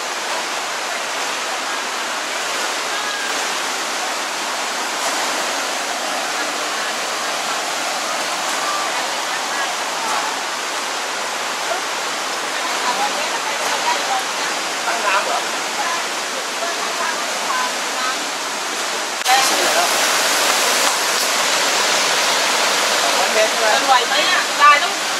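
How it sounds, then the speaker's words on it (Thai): A waterfall roars in a steady, dense rush of falling water that never pauses, growing a little louder and brighter toward the end as if approached more closely. "อันนี้ลองไปดูน้ำตก"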